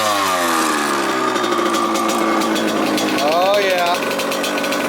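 A Kawasaki KX100 two-stroke dirt bike fires with one kick and revs, a loud buzzing engine with rising and falling pitch sweeps, close to the microphone, while someone speaks briefly over it.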